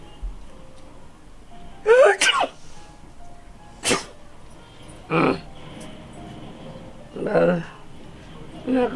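A person sneezes amid a loose series of short sharp bursts that mix sneezes with coughs and throat clearing, spread across several seconds and fairly close, with light background noise between them.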